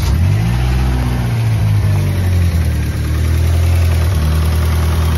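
A 1986 Chrysler LeBaron Turbo engine running close by at a loud, steady idle, a low rumbling drone with slight pitch wavering and a rough, knocking edge, no voices.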